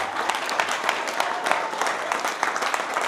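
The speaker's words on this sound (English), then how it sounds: "Let's get Jason Walker one more big round of applause here" An audience claps for Jason Walker, a dense burst of applause that runs steadily for about three seconds.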